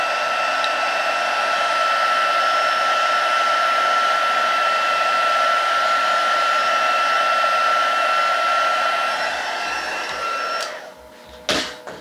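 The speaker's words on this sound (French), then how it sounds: "c'est bien un pistolet chauffant, c'est pas un sèche-cheveux" A heat gun blows hot air with a constant whining hum and a steady tonal whistle for about ten seconds, then cuts off, followed by a few brief clunks as it is set down.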